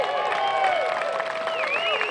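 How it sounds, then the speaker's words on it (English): Golf spectators at a Sunday tournament cheer and applaud as a Horseheads native sinks a birdie putt on the 18th green, a steady wash of clapping and crowd noise with whistles on top. "The local faithful in attendance cheering on the most popular man on the golf course today"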